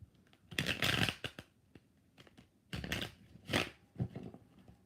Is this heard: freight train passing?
no